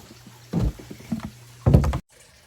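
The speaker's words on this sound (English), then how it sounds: "I'm adding some water to this and filling that up" Water is poured into buckets in a greenhouse. Two bursts of splashing and gushing stand out against a low background hum, with some knocks between them. The pour stops abruptly near the end.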